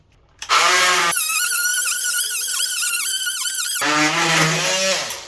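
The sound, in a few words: oscillating multi-tool blade cutting through pipe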